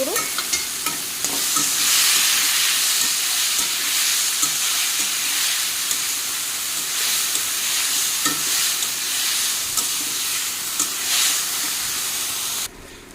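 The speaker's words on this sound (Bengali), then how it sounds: "থুরটা একটু বেজে নেই থুর আর আলু একসঙ্গে নিয়েছি" Banana stem and potato sizzle steadily in hot oil with salt and turmeric, a loud, continuous close frying hiss broken by occasional stirring scrapes.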